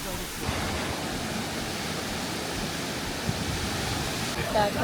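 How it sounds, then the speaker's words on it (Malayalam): Love Waterfall, a small cascade in Cat Cat village near Sa Pa, Vietnam, gives off a steady, even rush of falling water that holds at a constant level. "വില്ലേജിലെ ലവ് വാട്ടർഫോൾസ് ആണ്."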